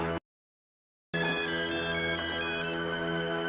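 An incoming-call phone ringtone rings out loud and steady with bright tonal notes, following a brief silent gap, with no talk over it.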